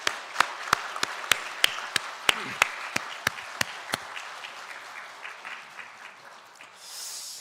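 Congregation applauding in a church, a steady wash of many hands clapping, with a few sharp close claps standing out over the first four seconds before the sound fades and thins.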